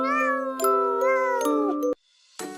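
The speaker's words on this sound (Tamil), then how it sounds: "காணாமல் போன பூனை நண்பன்" A cartoon cat gives a long, drawn-out meow with wavering pitch, loud and close, followed by a brief silence and a short sound after it.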